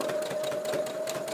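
A sewing machine stitches the head of a memory bear through thick stuffing, its motor working harder with a long stitch length. It gives a steady, continuous whirring hum throughout, close and alone.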